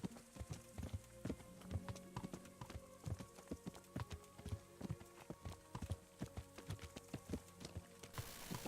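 Horse hooves clip-clop steadily in a medieval hunting ride in Kingdom Come: Deliverance, close and rhythmic, sharp repeated knocks of a walking horse with no voices during the stretch.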